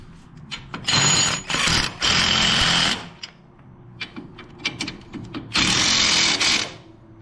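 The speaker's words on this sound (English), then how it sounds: "And then we take our trusty impact driver just to" An impact driver running a bolt home on a Harley-Davidson touring floorboard extension, with three loud, rattling bursts of about a second each, separated by quieter clicks and handling noise.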